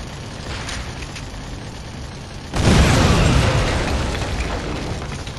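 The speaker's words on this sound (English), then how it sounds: "these towers can collapse if hit by an explosion" In the Killzone video game, a tower collapses after an explosion: a sudden loud rumbling crash bursts in midway and keeps roaring as debris falls, with no speech.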